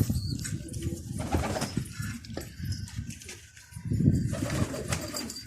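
Pigeons on a rooftop loft in Irbid, Jordan, give soft low coos, with bursts of wing flapping and rustling close by at moderate loudness.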